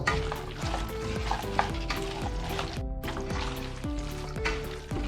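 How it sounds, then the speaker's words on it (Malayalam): Chicken pieces are stirred into biryani masala in a pan for a Malappuram-style chicken biryani: a spoon repeatedly scrapes and clinks against the metal over a soft sizzle, with no voices. "ഇനി നമുക്ക് ഇതിലേക്ക് ചിക്കൻ ഉണ്ട് കേട്ടോ. ഇനി നന്നായിട്ടൊന്ന് ഇളക്കി കൊടുക്കട്ടോ."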